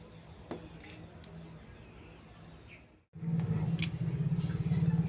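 A spoon mixes street-style sakalu makha in a bowl, making close clinks and scraping. After a brief silent break the stirring returns louder and quicker.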